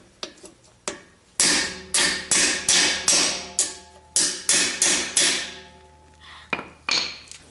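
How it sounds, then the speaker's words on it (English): A little hammer strikes a bent metal plate again and again, about a dozen sharp ringing clanks in an uneven rhythm, close and loud with no talk. "Hopefully I can get it with this little tiny hammer."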